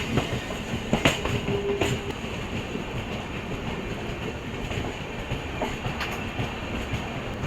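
A passenger train pulls into Bangarapet station on the line from Kolar, its steady, loud rumble of wheels on rails continuing throughout, with faint metallic clatter and brief squeals.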